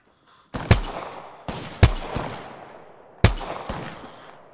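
Several loud, sharp gunshots from a gun in the Apex Legends video game, fired singly and in a quick pair at uneven intervals, each with a ringing tail.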